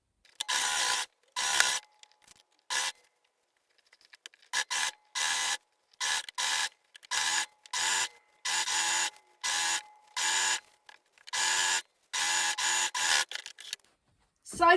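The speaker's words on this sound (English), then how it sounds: "I'm going to start at the top, sew all the way down, and then I'll do a second row of stitching just to reinforce it" A sewing machine double-stitches the side seams of patchwork jeans in bursts of fast, whirring stitching, each a second or so long, separated by brief silent pauses.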